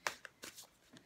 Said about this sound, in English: I'll just give these a bit more of a shuffle.